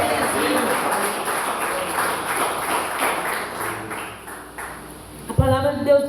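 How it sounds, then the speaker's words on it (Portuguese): A church congregation claps in rhythm through most of the stretch, steady and moderately loud, fading before a sharp change near the end. "Bate palmas e glorifica o nome do Senhor."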